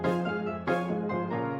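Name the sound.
string stabs in a music production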